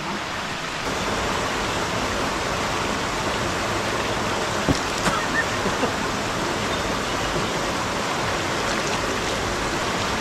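A river in a remote tribal village area near Chinnur flows steadily with a broad, continuous rushing hiss, close and even throughout, with no talking.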